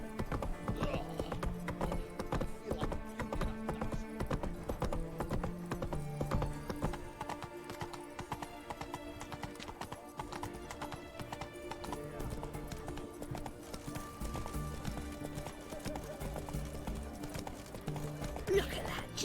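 Horse hooves clip-clop steadily in the video game The Witcher 3, a continuous rhythmic trot under game music, with a horse whinnying and a voice talking over it.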